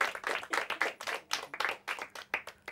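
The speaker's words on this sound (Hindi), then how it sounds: "इनके लिए भी तालियां" A small audience claps for a team placed third in a Hindi quiz competition final, a brisk run of separate, fairly close handclaps with no talking.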